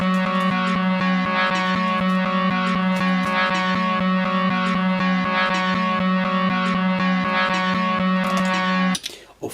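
An 8-step scramble on a Looperlative LP2 Mini looper replays eight sliced chunks of a loop in a shuffled order, producing a dense, distorted, droning tone chopped by regular rhythmic cuts, loud and continuous before an abrupt stop near the end.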